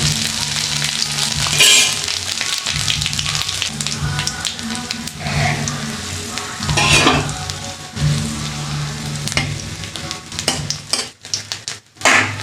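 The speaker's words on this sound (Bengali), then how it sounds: "তেলটা গরম হয়ে গেছে। দিয়ে দিলাম 2টো তেজপাতা, 2টো শুকনো লঙ্কা, একটু আদা দিয়ে দিলাম কুচি করে, 5 ফোড়ন দিয়ে দিলাম" Bay leaves, dried red chilies, chopped ginger and panch phoron crackle and sizzle in hot oil for a khichuri, a loud continuous frying hiss with sharp pops and occasional stirring clatter near the end.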